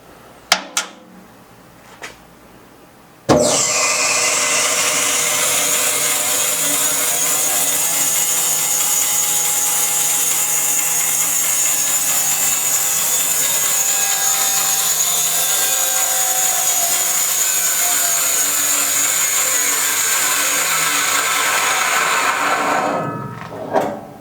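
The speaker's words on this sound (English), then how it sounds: "finish running the circuit for my new Powermatic 24-inch bandsaw. So let's take a look and see how she sounds." A new Powermatic 24-inch bandsaw, model 2415, starts up and runs steadily with a loud, even whine and hum for about twenty seconds before winding down, alone with no talking.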